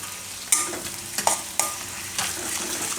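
Green chili and ginger stir-fried in a pan for cheese broccoli fried rice, a soft steady sizzle broken by several sharp scraping clatters of the spatula against the pan.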